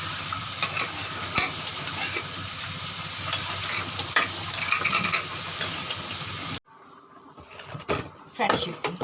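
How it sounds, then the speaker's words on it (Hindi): Mixed vegetables sizzle and are stirred in a kadhai, a loud steady frying hiss with scraping for several seconds, then quieter clinks and stirring noises, with a faint voice in the background. "देखिए अब मैं इसको मिक्स कर दूँगी।"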